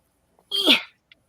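A single sharp sneeze, close and fairly loud, bursting out of near silence with a brief trailing squeak.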